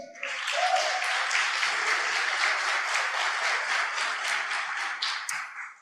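A church congregation applauds steadily for several seconds, dense rapid clapping that fades out at the end, with no voices over it.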